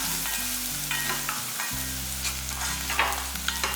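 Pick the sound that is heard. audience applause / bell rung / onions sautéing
onions sautéing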